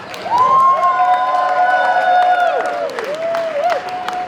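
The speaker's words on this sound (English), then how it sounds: "About another round of applause for Odaiko Sonora." An audience applauds and cheers for the Odaiko Sonora taiko drum group on the main stage of a Japanese festival in Tucson. The loud, steady crowd noise carries a long sustained whoop or tone over it.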